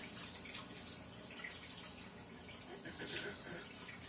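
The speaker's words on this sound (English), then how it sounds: "Let me put this over here in the sink. Get the batter off my hands." Water runs from a kitchen sink faucet as cake batter is rinsed off hands, a soft, steady hiss and splash with faint drips, quiet and close throughout.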